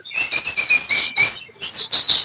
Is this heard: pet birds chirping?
yes